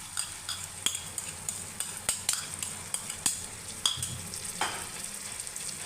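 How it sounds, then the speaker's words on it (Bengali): A spoon scrapes and stirs yogurt, salt and red chili into a sizzling prawn curry in a pan, giving irregular metallic knocks over a soft, steady frying hiss. "এবার এটাকে ভালো করে মিক্স করে নেব।"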